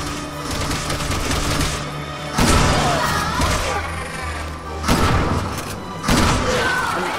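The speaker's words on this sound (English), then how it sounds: "I'm shooting her." Gunshots fired at the boss Debora in Resident Evil 6, three heavy booming blasts at irregular intervals over a droning game background, close and loud.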